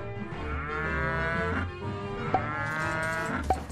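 Cattle moo in the video game Rock of Ages 2, a series of deep, drawn-out lowing calls layered over each other, steady and fairly quiet, with no talk.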